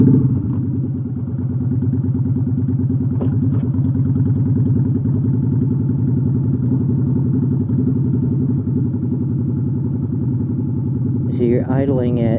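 A motorcycle idles in second gear while riding at night. Its low engine rumble is loud and continuous, with a faint rising whine near the end and no talking.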